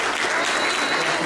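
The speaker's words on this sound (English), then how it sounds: "Let's give a round of applause for the judges, please" Loud, dense applause from an audience at the 2015 ACT-IAC Mobility App fair, a continuous round of clapping for the judges, close and uninterrupted, with no one speaking over it.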